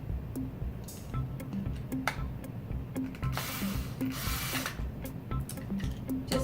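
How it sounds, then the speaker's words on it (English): Screw being tightened into a toy train's body by hand, a steady whirring drill-like grind running throughout with small clicks and scrapes layered on top, close and fairly quiet. "Now we're just tightening the screw."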